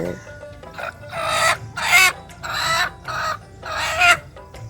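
A chicken clucks and squawks close by in four or five loud bursts with short pauses between them.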